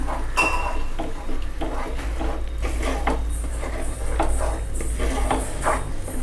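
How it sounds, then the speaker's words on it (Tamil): Metal utensils scrape and clatter repeatedly against a pot of fish head curry in an uneven stirring rhythm, over a steady low hum, with no talking. "சேர்த்துட்டு நல்லா அதை மாதிரி மிக்ஸ் பண்ணி விட்டுக்கலாம்"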